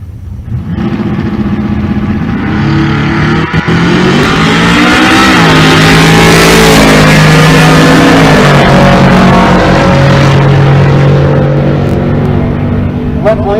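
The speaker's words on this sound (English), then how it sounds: "Blaine, the 2010 model Chevrolet Camaro." A 2010 Chevrolet Camaro naturally aspirated small-block drag car at a drag strip in Pueblo, Colorado, roars close and loud, engine revving and climbing through gears in a sustained, powerful acceleration.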